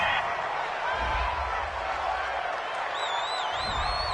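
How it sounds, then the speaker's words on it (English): Home crowd cheering in a PS4 football video game after a penalty flag on a third-down play, a steady broad roar of the stadium audience with whistling tones rising near the end, heard alone without talk. "This home crowd, they're happy with that call."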